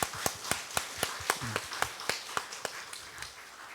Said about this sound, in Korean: 여러분 박수 한번 쳐드리세요.